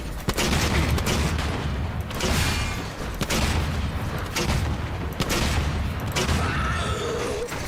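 Repeated booming explosions from a grenade launcher in a shooter video game, loud and continuous, with dense blasts layered over a constant rumble of in-game combat noise.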